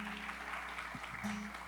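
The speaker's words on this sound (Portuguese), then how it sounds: "dá uma salva de palmas ao Senhor." Church congregation applauding during a Portuguese-language sermon, a steady wash of clapping that fills the short moment at moderate level without pause.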